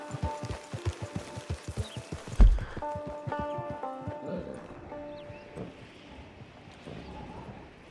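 Horse hooves in the video game Red Dead Online clip-clop in a quick regular rhythm, then slow and stop near a camp, followed by a softer snort and quiet ambient sounds.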